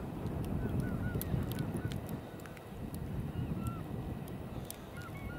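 Geese honking in flight during a spring goose hunt over decoy profiles, with several short calls scattered through the clip over steady wind and outdoor rumble, fairly distant; faint voice in the background.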